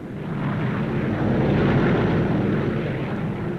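Berlin airlift propeller planes give a loud, continuous roar that builds and holds steady, like an aircraft passing close overhead, with no voices.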